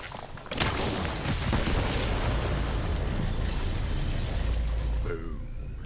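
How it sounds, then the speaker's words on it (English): A loud video game explosion in a forest in Borderlands 3 bursts out with a deep rumble and crackling debris, sustaining for several seconds before trailing off. "The explosion echoed through the forest"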